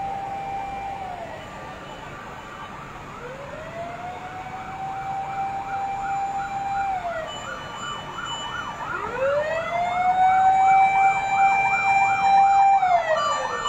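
A fire truck siren wails, rising and falling repeatedly in long sweeping cycles, growing louder toward the end with faint traffic rumble underneath, at a large fire in Novaliches, Quezon City.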